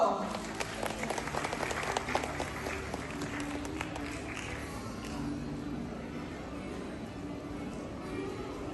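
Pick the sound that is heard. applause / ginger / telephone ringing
applause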